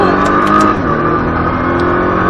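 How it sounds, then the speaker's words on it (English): A Nissan GTR engine pulls hard at full throttle, a loud, close, continuous roar climbing in pitch, with a few sharp transient clicks early on and no voices. "Roll on that throttle out. And full throttle out."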